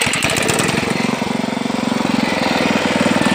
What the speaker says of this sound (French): Le bruit, c'est un bruit de motoculteur.